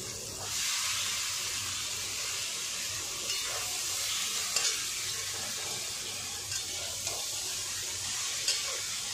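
Chowmein noodles for egg chowmein stir-fried in a hot pan give a steady close sizzle and hiss, with occasional scraping stirs and soft clicks throughout, no talking.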